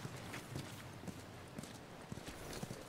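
Horse hooves clip-clop at a walking pace in The Last of Us video game, a quiet, steady series of hoof strikes against soft ambient background noise.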